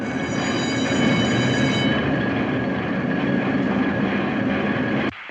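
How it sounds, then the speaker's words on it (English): A newspaper printing press runs at full tilt in a 1952 film noir, a loud, continuous mechanical roar with a rhythmic rattling undertone that stops abruptly near the end. "That noise, what's that racket? That's the press, baby."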